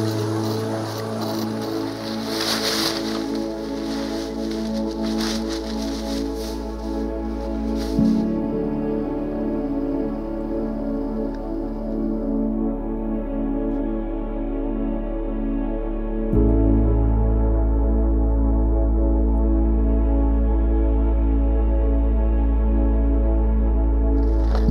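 A motorized ice auger boring through river ice on a small river in deep winter, its engine holding a steady, loud drone with pitch shifts as the load changes, heard close and alone.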